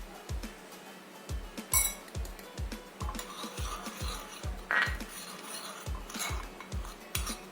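Maida flour being mixed with water in a bowl, with a steady rhythmic scraping and tapping of a spoon against the bowl, about two strokes a second, soft and close, with occasional faint clinks.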